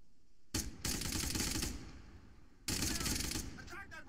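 Sustained bursts of machine gun fire in the Arma 3 campaign, two long loud volleys separated by a brief lull, with fainter rattling shots trailing off at the end.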